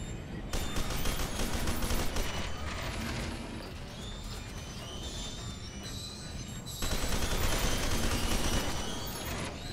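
Sustained fully automatic gunfire in the shooter game F.E.A.R. 2, a dense rattling stream of rapid shots that runs almost the whole time, easing briefly in the middle before a loud renewed burst, with no talking.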